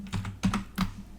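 A short burst of keystrokes on a computer keyboard, four or five close, crisp clicks in quick succession while a file name is typed, with no voices.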